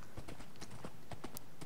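Horse hooves clip-clop at a steady trot in a Minecraft-style video game, a quiet rhythmic series of soft hoof taps over a faint background hiss, with no talk.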